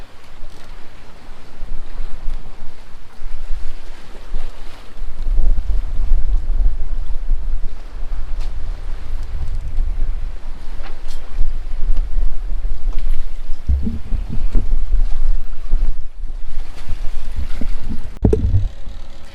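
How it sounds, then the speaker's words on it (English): Wind buffets a sailboat running wing and wing off Bodrum, a constant heavy roar of microphone-battering gusts with low rumbling swells and occasional thumps of the hull, loud and unbroken with no talk. "We're getting bounced around by the wind."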